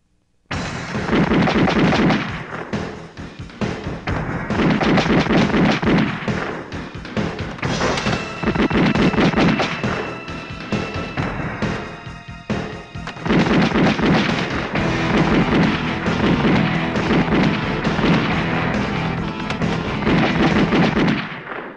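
Gunfire in a Filipino action film, with loud, sustained volleys of shots and booming blasts that come in dense waves, close and dominant with almost no speech.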